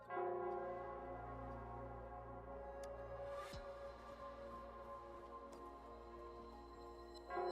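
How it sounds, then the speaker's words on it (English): Church bell tolling in the video game Wuthering Waves, a low resonant ring with a long fading tail under a soft ambient drone, fairly faint and no voices. "It's the bell."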